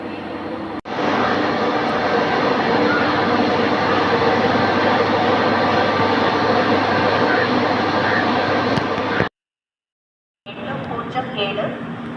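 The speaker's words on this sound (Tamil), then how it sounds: "அண்ட் ஆல்சோ ஜென்ரேட்டர் கார் இப்போ தான் ஆன் பண்ணியிருக்காங்க" A loud, steady mechanical drone from the generator car of the Tambaram–Tiruchirappalli special train hums without a break, cuts out briefly, then resumes.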